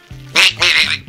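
Duck quacking in the farm video game Barnyard: two loud, close, nasal quacks in quick succession, with faint game sounds underneath.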